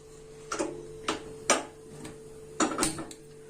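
A gas stove in a home kitchen is lit while goat trotter soup is prepared: a series of sharp igniter clicks, about five, irregularly spaced over a faint steady hum, close and fairly loud.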